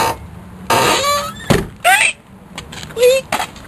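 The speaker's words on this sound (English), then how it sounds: "Creaky door. I can have the creaky door." A creaky door on an old vehicle with a Vortec V6 and 137,000 miles gives short squeaks and creaks mixed with a few thumps, close by, with voices nearby.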